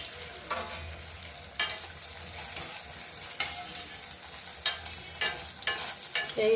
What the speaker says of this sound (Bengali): আমি বাবার জন্য খালি লুচিটা ভেজে নিচ্ছি